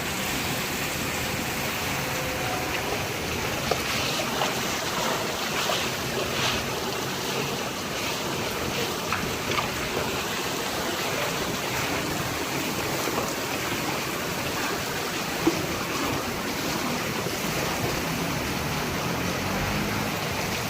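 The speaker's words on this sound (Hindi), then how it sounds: "आज देखें कितनी तूफ़ानी बारिश हो रही है।" Steady, dense rushing noise of heavy stormy rain pouring down onto a rooftop without pause, broad and loud throughout.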